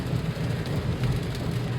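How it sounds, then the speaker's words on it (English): Heavy rain pouring down on a taxi during a wet night, a dense steady patter with low rumbling underneath, constant and close with no voices. "pouring down rain all night long."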